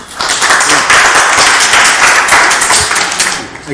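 Audience applause at a borough council meeting, a loud continuous burst of many hands clapping that holds for several seconds and then tapers off.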